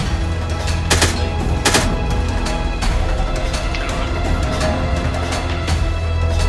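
Bursts of AK assault rifle fire in the survival video game Miscreated, several sharp loud shots with a few standing out clearly against continuous game noise, no talking.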